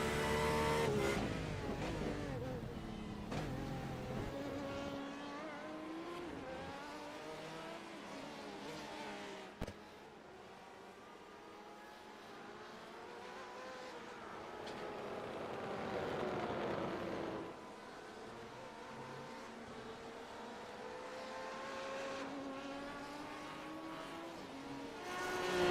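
GT race cars roar through a GT Masters endurance race on a bumpy track, engines revving and shifting gears as cars sweep past, the sound rising and fading continuously with one sharp mechanical click.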